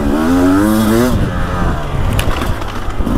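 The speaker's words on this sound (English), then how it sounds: "it's fun to get back on the two-stroke again because they're so responsive." A 2024 Beta 300 Race Edition two-stroke dirt bike rides a short woods loop, its engine revving high and loud for about a second before dropping to a rough, rumbling idle amid scraping trail noise.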